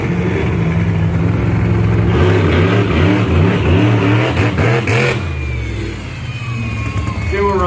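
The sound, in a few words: monster truck engine revving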